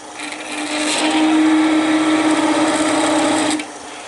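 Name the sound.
Sorby spiraling tool texturing wood on a lathe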